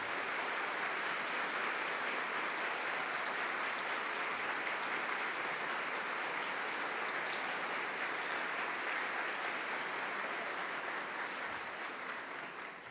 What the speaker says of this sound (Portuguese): uma calorosa salva de palmas.